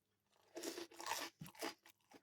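Teeth bite into the crispy crust of a frozen pizza sub, giving several close, loud crunches in quick succession with chewing between them.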